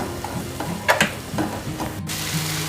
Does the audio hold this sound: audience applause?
no